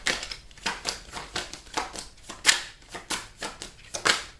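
Tarot cards shuffled by hand in a steady run of crisp riffling bursts, roughly two per second, close and moderately loud with no talking.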